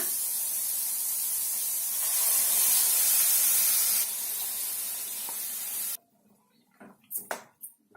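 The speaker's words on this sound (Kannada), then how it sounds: "ಇದಕ್ಕೆ ಸ್ವಲ್ಪ ನೀರನ್ನು ಕೂಡ ಸೇರಿಸಿ ಇದಕ್ಕೆ ಹಾಕೊಳ್ಳೋಣ" Water poured into a hot pan of fried, ground amaranthus gojju mixture gives a loud, broad steaming hiss that swells then eases for about six seconds before cutting off into a few faint clinks and stirring sounds.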